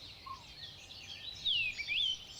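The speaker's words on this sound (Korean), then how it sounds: "새들이 새벽에 해 뜨기 전에 합창을 해요." Dawn chorus recorded before sunrise, with several bird species such as narcissus flycatchers calling nearby: thin whistled chirps and rising and falling notes over a faint hum, a couple of clear calls standing out toward the end.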